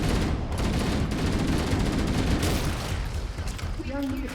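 Shotgun blasts in Halo: Combat Evolved Anniversary, the exploding kind, fire in a dense, loud, continuous barrage of booming shots, with a voice briefly heard near the end.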